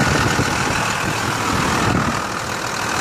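A 1996 Dodge Ram 3500 pickup with a 5.9L Cummins inline-six diesel and 77K miles runs steadily. Its low, gritty engine drone holds an even level throughout, with no voices.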